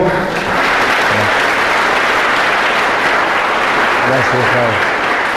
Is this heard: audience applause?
yes